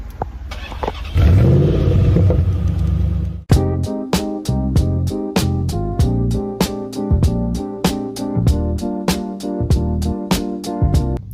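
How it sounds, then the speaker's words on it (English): A truck rumbles past nearby for a few seconds, its engine noise swelling and then cutting off abruptly before a loud, rhythmic music track takes over. "there was a truck passing here"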